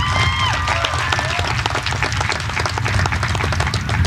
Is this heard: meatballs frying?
no